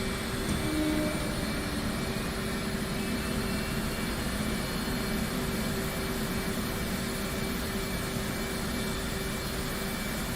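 An F/A-18C jet engine spools up in a flight simulator game, a steady, dense roar with a constant whine that holds at one loudness throughout, heard alone without speech.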